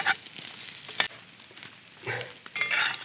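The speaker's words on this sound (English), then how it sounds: "The eggs cook so fast." Eggs frying in a cast iron pan over a campfire, a bright crackling sizzle with bursts of spatter and the scrape of a spatula, loud and close.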